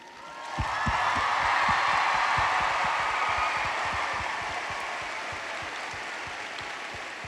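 Sustained audience applause for two brilliant human beings, a student and his teacher, with dense clapping that swells quickly and holds loud and steady before easing off slightly toward the end.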